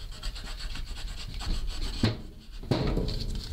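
Rough, rasping back-and-forth scraping of a knife blade sawing into wood, steady and close, with a couple of brief pauses between strokes.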